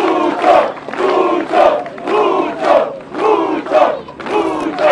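A crowd at a civic housing handover ceremony in Tarija, Bolivia, roars and cheers in loud repeated surges, rising and falling in waves of shouting voices.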